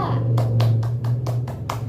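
Classroom applause for a student group: a few sharp, rhythmic hand claps, about six, sounding close and moderately loud over a steady low hum.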